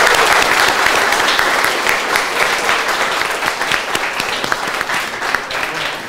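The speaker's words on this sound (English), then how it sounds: "let's give them another round of applause" An audience at an invention bootcamp gives a team another round of applause, a full, continuous wash of clapping from many people that slowly tapers over about six seconds.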